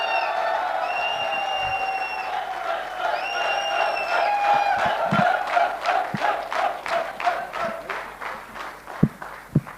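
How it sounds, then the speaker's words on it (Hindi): Loud crowd applause bursts out at a network marketing gathering, with rhythmic unison claps building and thinning near the end, and a few loud cheers and shouts over it. "जोरदार तालियां एक बार, दमदार"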